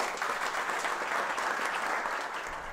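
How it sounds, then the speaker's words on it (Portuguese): Applause for a team from a crowd, moderately distant, steady dense clapping throughout the short stretch with no voices over it. "uma salva de palmas a todos vocês"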